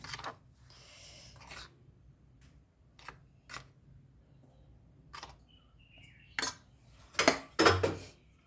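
A metal spoon clinks against glasses while sugar is added for watermelon sharbat: scattered light taps, then several sharper, louder clinks near the end, in a quiet kitchen.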